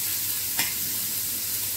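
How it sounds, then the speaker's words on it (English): Continuous sizzling of onion frying on a hot tawa, with a couple of brief scraping stirs, no voices. "I'm going to fry this onion a little, make it a little brownish"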